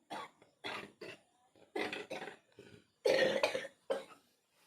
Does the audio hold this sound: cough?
yes